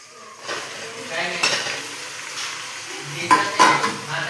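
Marinated chicken sizzling in a frying pan, a soft steady fry with bursts of stirring and utensil scrapes against the pan, close up.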